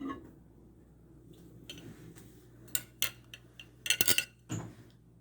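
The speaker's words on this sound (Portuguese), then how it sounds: "Observem que eu tô mexendo" Spoon scraping and tapping against a bowl while melted chocolate for ganache is stirred, a few scattered clinks and ticks, close and moderately loud over a quiet low hum.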